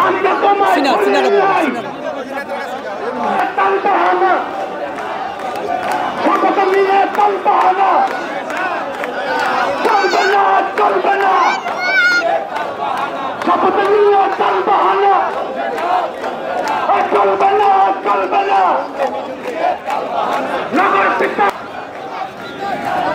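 A crowd of protesters at a road blockade chants slogans in unison, loud and sustained with rising and falling rhythmic waves, over crowd chatter.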